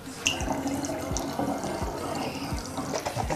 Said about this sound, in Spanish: y vamos a completar con el agua fría.